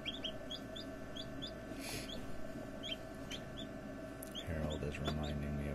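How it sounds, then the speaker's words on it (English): Faint geese honk repeatedly in the distance over a steady low background hum, with a louder rustle near the end. "I haven't let the geese out, so I hear them screaming"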